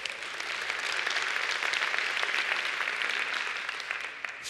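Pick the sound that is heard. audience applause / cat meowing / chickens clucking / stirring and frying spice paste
audience applause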